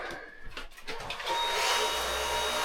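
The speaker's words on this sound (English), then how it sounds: "You gotta vacuum, so then all the other stuff can come out from the slides" A vacuum cleaner runs inside an RV while cleaning the interior, first muffled and uneven with bumps and handling noise, then rising to a loud, steady, close whine.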